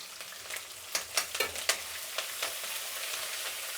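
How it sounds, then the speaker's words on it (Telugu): Green chillies, grated ginger and curry leaves fry in tempering oil on low heat, a steady close sizzle with a few sharper crackles and pops partway through, no talking. "ఈ పోపు అనేది సిమ్లో పెట్టుకొని వేయించుకోవాలి"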